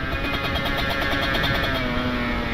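Motorcycles overtaking on a road, heard from a carburetted Kawasaki Ninja RR on a ride, give a steady, loud, close engine drone with a wavering whine and no talking.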